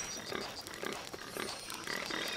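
Wild boar in the Shadow of the Tomb Raider video game, grunting and snorting in a run of short repeated calls over steady game ambience.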